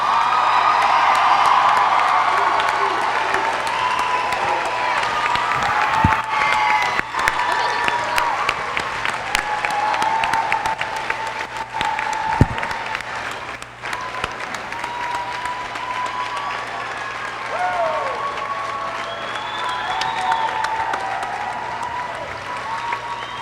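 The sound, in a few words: applause and cheering for the head coach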